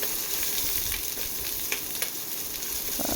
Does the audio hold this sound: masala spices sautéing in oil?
yes